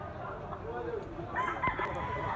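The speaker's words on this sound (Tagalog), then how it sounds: "Guwapo kay manok si tatay guys, oh." A black-leg stag rooster with pumpkin-coloured plumage crows once in the second half, with a drawn-out call over steady background noise and faint talk nearby.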